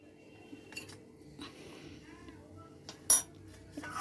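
A bowl set into a pan of heated water during prawn cooking, producing a few soft knocks and light clinks of dishware, then one sharper clink near the end, with no talking.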